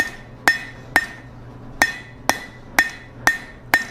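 A hammer strikes hot steel on an anvil while a fire poker is forged, seven sharp ringing blows at a fairly steady, slightly uneven pace, close and clear, with no talking.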